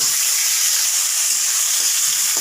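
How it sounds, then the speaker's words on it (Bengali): Cumin, onion, garlic, tomato and green chili fry in hot oil until lightly browned, giving a steady, close, continuous sizzle with no pauses and no voices. "একটু হালকা লাল লাল করে ভেজে নিচ্ছি"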